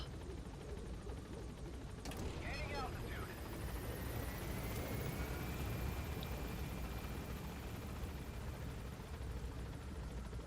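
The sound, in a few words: helicopter arriving in video game Metal Gear Solid V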